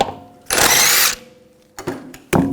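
A power tool, driven through a 17mm socket, spins lug bolts off the rear wheel of a Volkswagen Jetta in one long loud whir, followed by two short bursts.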